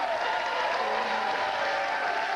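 Studio audience applauding and cheering on a daytime talk show, a steady dense wash of clapping and crowd noise throughout with no pauses.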